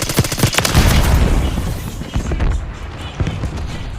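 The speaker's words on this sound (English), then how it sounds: "Grenade!" A grenade blast in a fast-paced multiplayer shooter game bursts out near, thudding and rumbling over scattered gunfire, with a team voice calling out amid the firefight before the noise tapers off.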